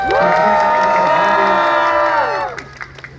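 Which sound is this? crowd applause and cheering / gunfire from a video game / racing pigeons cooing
crowd applause and cheering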